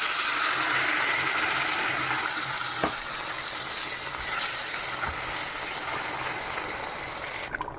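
Meat frying in a pan, alongside taro leaves cooked with small tomatoes, makes a loud, continuous sizzle with a few soft stirring knocks near the end.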